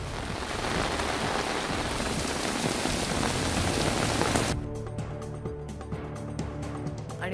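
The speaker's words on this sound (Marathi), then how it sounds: "विजांच्या गडगडाटासह जोरदार पाऊस" Heavy rain pours steadily in Yavatmal district, a dense hiss that drops sharply in level partway through. The second half is quieter, with a low rumble that may be distant thunder. No one speaks.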